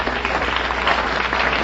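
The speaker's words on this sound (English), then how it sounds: "plumbers always get applause here" Studio audience applause on a 1953 television quiz show, dense steady clapping filling the room from start to end with no talk over it.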